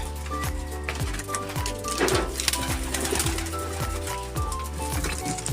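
Young pigeons emerge from a flyers' loft, their soft cooing and bird calls close by over a busy background of clicks and rhythmic knocking, with no talk.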